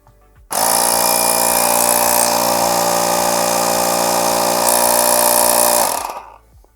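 An Osram OTIR2000 portable air compressor starts abruptly and runs at a steady, loud mechanical drone with a fast regular pulsing, then winds down and stops after about six seconds.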